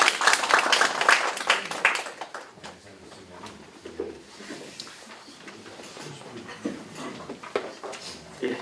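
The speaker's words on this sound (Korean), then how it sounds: "좋은 발표 주신 팀장님 다시 큰 박수 부탁드리겠습니다." Seminar audience claps loudly at first, a dense burst of applause that thins out after about two seconds into scattered, fading claps and faint room noise.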